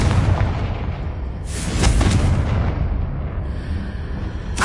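A Confringo blasting spell exploding in the video game Hogwarts Legacy, a loud booming burst that swells midway and lingers with a rumbling tail, heard alone without talk.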